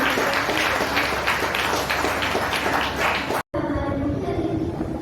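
An audience at a Hindi Day ceremony applauds to welcome a guest, a dense, steady wash of clapping that stops abruptly after a few seconds, leaving quieter room noise.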